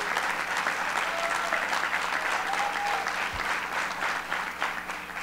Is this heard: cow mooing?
no